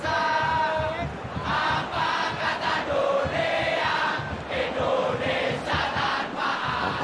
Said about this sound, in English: Crowd appreciates good football all round there.